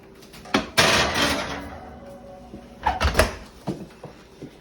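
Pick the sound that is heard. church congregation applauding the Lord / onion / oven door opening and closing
oven door opening and closing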